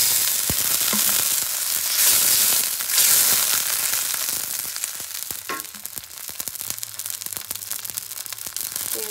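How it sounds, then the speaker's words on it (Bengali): A little water poured into a pan of lightly fried onions, setting off a loud, crackling sizzle with sharp popping spatters that continues steadily and close, slowly easing in intensity. "পেঁয়াজটা হালকা ভাজা হয়ে গেছে, এখন অল্প করে পানি দিয়ে দিব"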